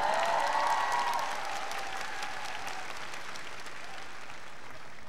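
Audience applause at a concert rings out loudly, a dense burst of clapping that fades steadily over a few seconds to a quiet murmur.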